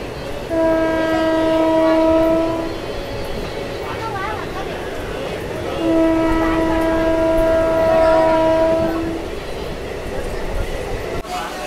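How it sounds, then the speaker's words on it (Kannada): A train horn blares twice in long sustained tones over the rumble and clatter of a MEMU train arriving at Byadarahalli station on the Mysuru–Bengaluru line, with faint voices in the background. "ಇದು ನಮ್ಮ ಟ್ರೈನ್ ಸದ್ಯಕ್ಕೆ ಬ್ಯಾದರಹಳ್ಳಿ ರೈಲ್ವೆ ಸ್ಟೇಷನ್ ತಲುಪಿದೆ"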